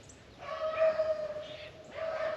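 Hunting dogs yip and whimper in short excited bursts while chasing a rabbit through brush, moderately close, with a brief pause between two runs of high yelping.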